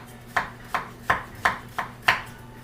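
A knife slicing food, likely a vegetable such as leek, on a cutting board for a black bean pasta stir fry: six crisp, evenly spaced chops close up, with no talking.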